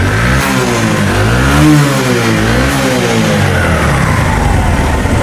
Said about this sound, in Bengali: আর ইঞ্জিনের সাউন্ড একদম স্পোর্ট